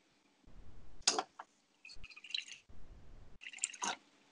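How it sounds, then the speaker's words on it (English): Water poured and splashed into churned milk during homemade butter making from Jersey milk, several close bursts of pouring and dripping separated by short pauses. "I will add more water now."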